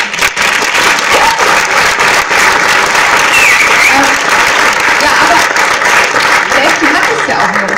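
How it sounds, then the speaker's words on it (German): Loud, sustained applause from a film festival audience in Berlin, many hands clapping in a thick unbroken roar that fills the whole stretch, with faint crowd voices underneath. "Deswegen nochmal ein großer Applaus."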